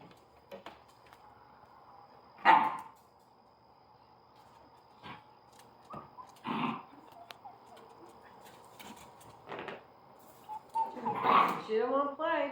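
Scottish terrier puppies at play, giving scattered yips, whimpers and short barks nearby, with a louder burst of yapping near the end; people talk over and between the sounds.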